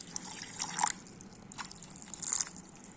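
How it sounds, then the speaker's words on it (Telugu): Water drips and trickles into a bowl of tamarind in a home kitchen, a few faint, brief splashes and pours coming in short bursts against a quiet background. "ఒక గిన్నెలో వేసేసుకొని దీంట్లో వాటర్ వేసుకోవాలండి."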